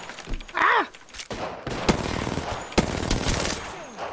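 Rapid gunfire bursts and a shotgun blast in Apex Legends ranked play, loud sharp reports over game effects with a voice briefly heard.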